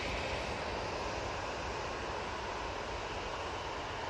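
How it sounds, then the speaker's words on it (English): EasyJet airliner lined up for departure at Manchester Airport, a steady broadband engine roar, distant and fairly quiet, constant for a few seconds with no voices. "EasyJet A380 now lined up for its departure"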